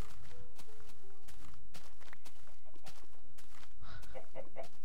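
Chickens cluck in the video game Minecraft, short scattered clucks mixed with game sounds and footsteps over a steady background, with no talk.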